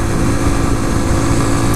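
A 2014 Honda Grom small-displacement motorcycle runs at around 53 mph and 7,000 rpm, its engine droning loud and steady alongside a constant rush of road noise.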